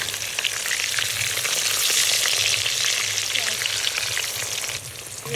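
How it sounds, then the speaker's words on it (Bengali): Halved boiled eggs sizzle steadily in hot oil after being turned, a dense continuous frying hiss with a low hum underneath that eases slightly near the end. "একটু ভাজা হয়ে গেছে, এবার আমি এগুলোকে উল্টে আর একটু ভেজে নেবো।"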